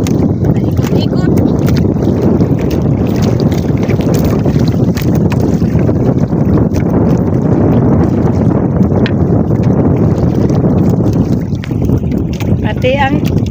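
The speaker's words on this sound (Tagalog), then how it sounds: "Pati ang bangka nag-ikot-ikot din. Dahil maalon." A small fishing boat spins on rough waves, its engine droning steadily beneath wind buffeting the microphone and splashing water, loud and close throughout, with people talking over it.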